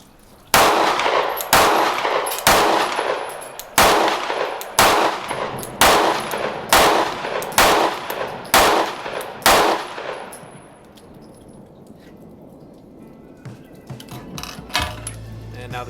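Series of about a dozen sharp, loud gunshots from a Sig P365XL Spectre Comp pistol, fired in a steady rhythm over roughly ten seconds, followed by fading outdoor quiet.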